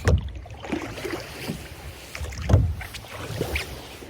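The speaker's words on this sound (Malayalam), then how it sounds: "കയാക്ക് കയാക്കല്ല ഇത് റോയിങ് ബോട്ടാണ് റോയിങ് ബോട്ട്" Oars dip and pull through calm water from a wooden rowing boat in Lofoten, making soft rhythmic splashes and creaks at roughly one-second intervals, close by, with light wind in the background.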